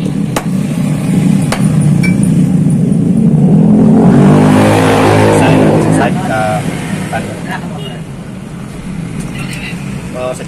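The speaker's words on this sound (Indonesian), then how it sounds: "Jadi kita harus ketok di sebelah sini." A hammer taps to straighten a motorcycle handlebar with a protective spacer between, sharp metallic knocks heard close over a loud engine-like drone and someone talking.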